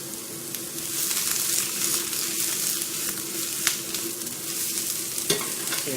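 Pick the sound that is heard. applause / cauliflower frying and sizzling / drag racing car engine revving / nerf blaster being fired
cauliflower frying and sizzling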